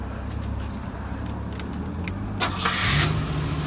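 The engine of a 1963 Buick turns over and catches, then settles into a steady low rumble up close, with the start surging louder toward the end.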